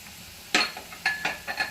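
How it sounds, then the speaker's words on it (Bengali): Powdered milk is stirred into boiling sugar syrup in a pan over low heat, with a soft bubbling hiss and several quick scraping stir strokes close by. "আমার চিনির সারাটা ভালো করে ফুটে গিয়েছে। এবার আমি যে পাউডার মিল্কটা নিয়েছিলাম ওইটা"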